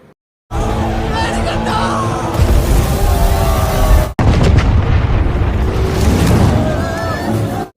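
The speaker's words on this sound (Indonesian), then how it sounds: "Ia meledakkan tempat-tempat di sekitar pasar yang membuat warga masyarakat panik." Explosions around a market in the film Minnal Murali: loud, sustained rumbling blasts with yelling mixed in, cut briefly near four seconds before another roaring burst that continues to the end.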